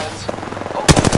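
Rapid automatic gunfire in Apex Legends Season 5 bursts out near the end in a quick, loud string of shots after a brief quieter stretch of background game sound.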